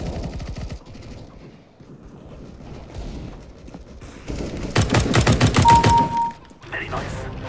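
Rapid gunfire in the video game Counter-Strike: Global Offensive, a burst of quick repeated shots building in the middle of the clip under a player's talk.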